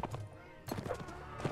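Horses in Mount and Blade Warband trot past with rhythmic clip-clop hoofbeats and a brief whinny, close and moderately loud, with game battle noise around them.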